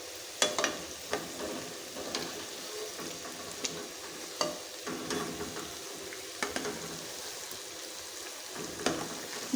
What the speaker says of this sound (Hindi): मीडियम फ्लेम पे हमने इनको फ्राई करना है ताकि ये अच्छे से क्रिस्पी से फ्राई हो जाए।